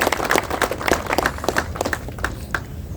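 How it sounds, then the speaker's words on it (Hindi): Audience at a smart-city property convention clapping in a steady ripple of overlapping claps, fairly close and continuous for a few seconds, with no talk over it. "आप सब लोग अपने लिए ताली बजा सकते हैं इसके लिए"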